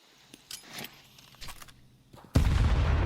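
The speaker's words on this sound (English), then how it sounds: "Oh, these nades" Grenade blasts in Counter-Strike on the Anubis map during a pro match: scattered clicks and small pops give way to a sudden loud, sustained booming explosion near the end.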